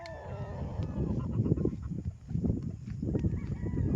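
Chickens on a spacious farm, a dense mix of clucking and squawking fowl calls close by, continuous over a steady bed of farmyard noise.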